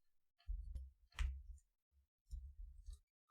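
Keys click quietly on a computer keyboard in short bursts as a command is typed, soft and close with brief pauses between groups of keystrokes.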